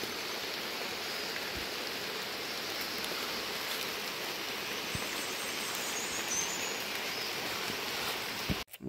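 Steady rain pours down continuously in Leyte, a dense even hiss with occasional heavier drops, close and fairly loud throughout, no voices.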